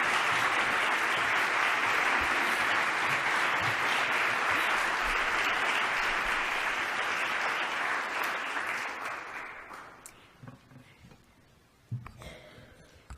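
Sustained applause from a standing audience welcoming a lecturer at the AERA 2017 Social Justice in Education Award Lecture, a dense roar of clapping that holds steady for about nine seconds before thinning out and fading, with a few scattered claps lingering at the end.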